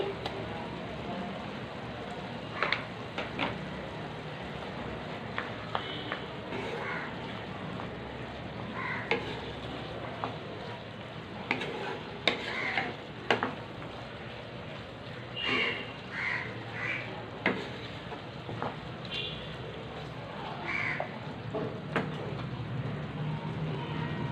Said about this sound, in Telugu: సో ఇప్పుడు ఇందులోని అల్లం వెల్లుల్లి పేస్ట్ వేస్తున్నానండి